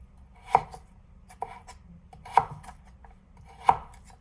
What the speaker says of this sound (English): These are quite thick carrots, and still the effort is quite low.